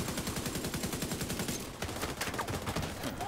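Rapid automatic gunfire in The Division 2, a dense loud stream of shots in a steady fast rhythm that breaks into more irregular bursts halfway through, close and unaccompanied by speech.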